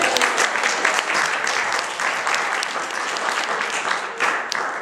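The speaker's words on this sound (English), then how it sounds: "Let's give him a round of applause." Loud, dense audience applause fills the room continuously, a steady wash of many hands clapping with a few sharper claps standing out, lasting the whole stretch.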